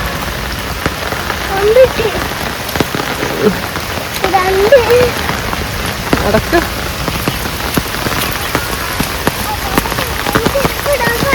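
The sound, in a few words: heavy rain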